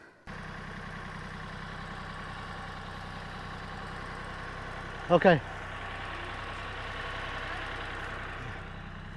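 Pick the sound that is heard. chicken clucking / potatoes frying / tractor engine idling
tractor engine idling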